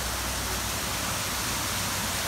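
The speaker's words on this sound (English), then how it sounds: "we've got that beautiful waterfall right down in there" A waterfall beside an inn at Gold Creek gives a steady, broadband rush of falling water, a continuous hiss with low rumble that holds evenly throughout, with no voices.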